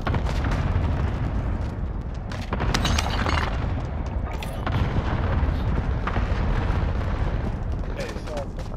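Dense video game gunfire and explosions from a trios match, a loud continuous barrage of shots and booms throughout, with no pause.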